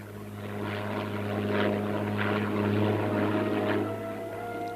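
A restored vintage fighter plane's propeller engine drones in a loud, steady roar with a strong low hum and slight swells in intensity, heard continuously throughout.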